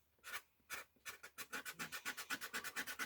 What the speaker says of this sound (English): Sanding down the edges is going to help close the fibers of the leather